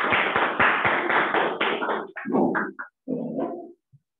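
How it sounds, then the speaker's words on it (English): Applause at a Toastmasters club meeting for the table topic master and speakers: a dense, steady burst of clapping for about two seconds, then breaking into a few looser, separate clusters before fading. "let us give a big round of applause for the table topic master as well as table topic speakers"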